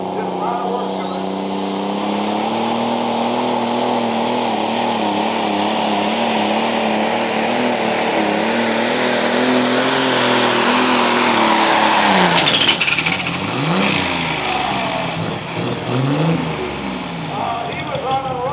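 A modified hot farm tractor roars at full throttle during a Badger State tractor pull, its loud engine howling steadily with pitch wavering as the weight box bites, and an announcer's voice underneath.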